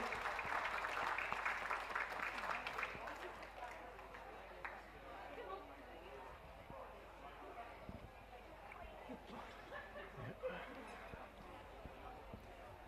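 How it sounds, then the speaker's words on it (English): Spectators at a dog show clap for the breed winners, a loud burst of applause in a large hall that fades after a few seconds into crowd murmur and a commentator talking over the public address. "Give them a round of applause, ladies and gentlemen."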